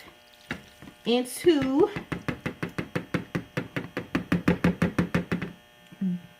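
A shrimp and lobster Rotel dip mixture is transferred into a crock pot, heard as a quick, steady run of about twenty sharp spoon knocks and scrapes against the dish, with a voice speaking before and after.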